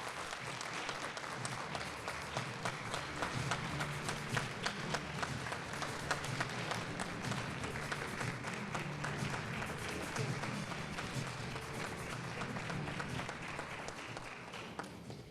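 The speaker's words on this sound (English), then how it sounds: "Let's stand and rise to give her a round of applause." A rally audience stands and applauds for fifteen seconds, many hands clapping in a continuous, even roar heard from a distance, with faint crowd noise mixed in.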